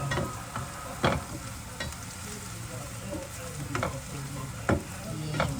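Pork adobo prep: garlic browning in a hot pan, giving a steady sizzle and frying crackle with a few sharp spoon scrapes and stirs, close and alone.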